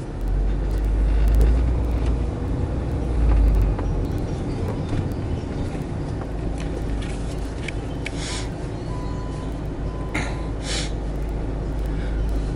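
Street traffic at Praça Seca with run-down cars rolls past as a steady, close, low rumble, broken by a few short hissing bursts and no talking.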